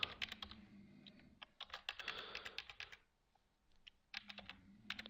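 Fast typing on a computer keyboard, crisp clustered key clicks in quick bursts, close and quiet, with a short pause in the middle before the tapping resumes.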